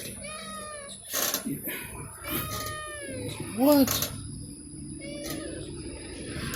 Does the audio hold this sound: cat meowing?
yes